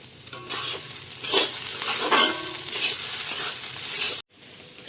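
Cashews and raisins frying with a little sugar in a kadai give off a steady close sizzle, broken by stirring scrapes and a brief dropout near the end.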